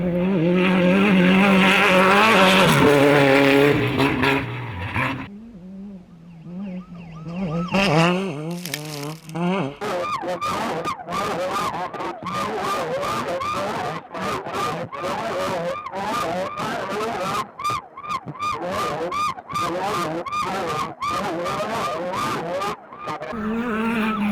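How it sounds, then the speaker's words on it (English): An off-road race car in the San Felipe 250 desert race roars past with a loud, rising and falling engine, followed by a long stretch of rough, revving, bumping motor noise heard from on board. "1011, which is Morgan Langley, 10 car just came through, and they're looking good"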